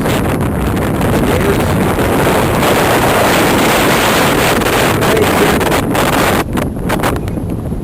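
Strong wind buffets the microphone at a hang glider takeoff, a loud, steady roar that stays constant throughout before briefly dipping near the end.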